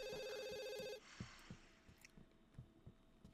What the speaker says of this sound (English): Why don't you come answer the phone?